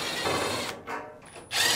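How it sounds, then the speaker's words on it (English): Power screwdriver or drill backing out Phillips screws from the front panel of a Fisher & Paykel clothes dryer, a loud whirring burst that cuts out briefly, then resumes with a second run. "start by removing the two Phillips screws on the front."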